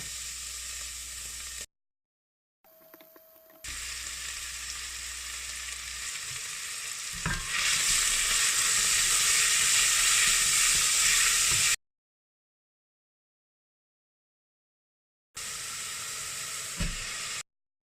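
Mushrooms and crushed garlic sizzle and fry in a pan on an electric cooker, a steady loud hiss broken by short silent gaps and stirring, swelling brighter midway.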